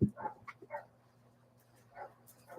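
A dog barks a few short times and then whimpers, faint and somewhat distant in an otherwise quiet room.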